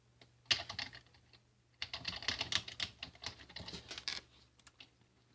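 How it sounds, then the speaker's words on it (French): Someone types text on a computer keyboard in a quiet room, quick irregular key clicks in two bursts separated by a short pause, close and clear. "je vais taper du texte"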